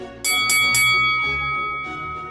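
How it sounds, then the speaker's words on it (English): A small bell on a wooden door with golden handles rings in three quick, bright strikes, followed by two softer rings as the tone fades, clear and close with nothing else heard. "The parrot rang the bell on the door."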